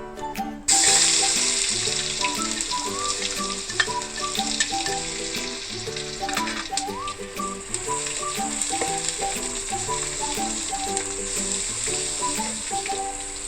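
Cumin, curry leaves and ginger-garlic paste hit hot oil with a sudden loud sizzle that settles into a steady crackling fry, with bright spitting pops and a faint tonal melody running underneath.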